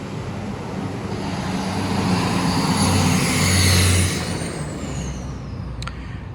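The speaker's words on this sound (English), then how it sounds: "before the noisy truck went by" A noisy truck drives past outdoors in a small town, a broad roaring rumble that swells as it nears, peaks, then fades away, followed by a short metallic clank near the end.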